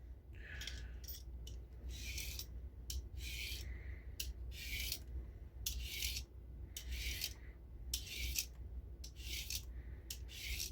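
An open heel peeler strips vegetables in a kitchen, giving a series of quick, close scraping strokes in an irregular rhythm with short pauses between them.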